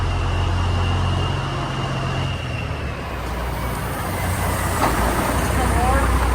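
A farm truck idles with a low, steady rumble while backing into a too-short building during harvest, its engine droning throughout with brief air-hiss and squeaks; a voice talks over it.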